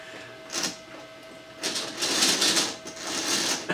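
A hand-cranked gear train spins at high speed, producing a rapid whirring, chattering mechanical rattle that swells in loud close bursts.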